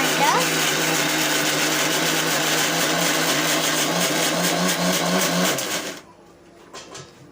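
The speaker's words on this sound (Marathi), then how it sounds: "मिक्सर लावते" Mixer grinder whirring steadily as it coarsely grinds ingredients for besan-free crispy bhaji, a loud continuous motor drone for about six seconds before it stops abruptly, leaving only faint kitchen noise.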